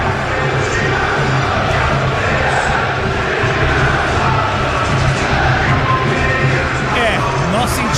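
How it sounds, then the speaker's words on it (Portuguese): Visiting Botafogo fans shouting and chanting inside Allianz Parque during a Libertadores match against Palmeiras, a continuous loud crowd roar with voices rising above it. "Nós sentimos alguns gritos da torcida visitante, sem dúvida alguma, a torcida do Botafogo que vibra demais"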